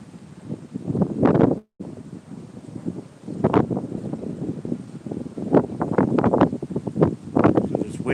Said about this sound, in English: This wind doesn't really help.